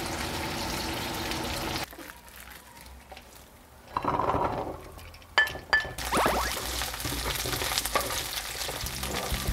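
Garlic stir-fries in a pan with bursts of sizzling, clinks of a utensil against the pan and shifting loud and quiet stretches, no speech.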